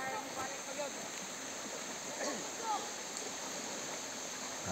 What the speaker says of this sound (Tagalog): daloy ng tubig.